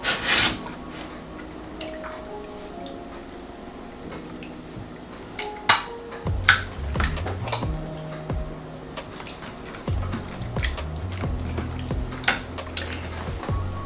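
Catfish fillets get tossed with oil in a dish, giving wet rubbing and scraping sounds with small clinks and squelches, intermittent and close, rising in bursts during the second half.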